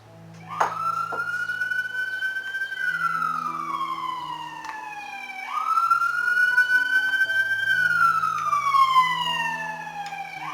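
An emergency siren in the United States wails in slow rising and falling sweeps, fairly close and steady, with no speech over it.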